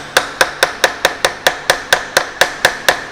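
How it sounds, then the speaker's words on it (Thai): A hammer lightly taps a metal workpiece on a shaping machine in a steady, even rhythm, about a dozen sharp ringing strikes close by, with no talking. "เอาค้อนเคาะเบาๆนะครับ"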